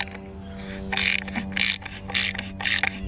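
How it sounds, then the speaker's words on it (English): A ratchet tightens the nuts on a brace mounted to a Yankee granite mailbox post. Loud, close ratcheting comes in repeated bursts over a steady mechanical hum. "now I'm gonna use the ratchet"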